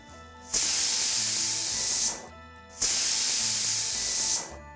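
A pressure cooker holding mutton masala vents steam in two loud, sustained hissing bursts, each lasting about a second and a half, separated by a short pause.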